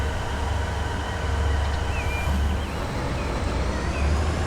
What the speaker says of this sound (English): This is another one of our trains.